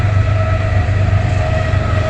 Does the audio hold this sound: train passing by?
yes